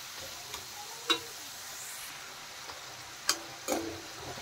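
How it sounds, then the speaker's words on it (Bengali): French fries deep-frying in oil, with a soft steady sizzle broken by a few sharp clinks and stirring knocks, close and fairly quiet. "দেখেন ফ্রেঞ্চ ফ্রাইগুলো ভাজা হয়ে গেছে"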